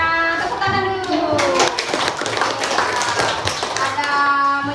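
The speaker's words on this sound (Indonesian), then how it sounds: "tepuk tangan dulu" Children in a classroom clap their hands in a quick burst of sharp, close claps lasting a couple of seconds, with someone speaking before and after.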